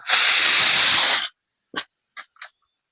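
A pressure cooker full of chana lets out one loud, close hiss of escaping steam lasting about a second, then a few short, faint puffs follow after a pause.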